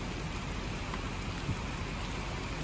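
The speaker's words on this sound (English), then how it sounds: "I'm gonna sit here and watch it rain" Steady rain falls outdoors at a logging site, a dense even hiss of drops on surfaces with no let-up, fairly quiet and close, with no voices.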